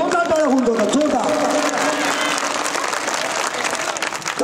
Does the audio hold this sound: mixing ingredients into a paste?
no